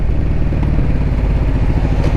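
A Ducati Diavel motorcycle engine runs in urban riding mode, a loud, steady, rumbling drone with dense low-frequency pulsing and no pauses, close to the listener.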